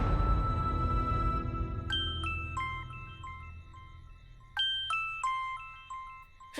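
A phone rings with an incoming call, a melodic electronic ringtone of short bright tones repeating in two bursts, fairly clear over a quiet low background.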